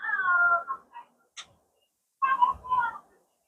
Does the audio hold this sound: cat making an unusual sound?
yes